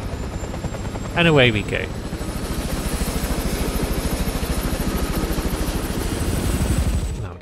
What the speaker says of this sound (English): Now let's steal a helicopter